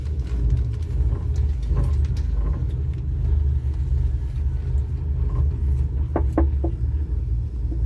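Machinery of the Ocean Park cable car in Hong Kong gives a steady low rumble throughout, with a few brief clanks near the end.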